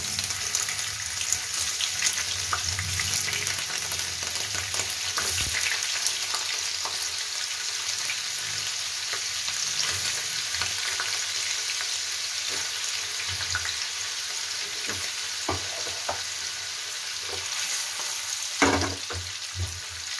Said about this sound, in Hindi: ये 300 ग्राम पनीर है, इसको हम हल्का फ्राई कर लेंगे।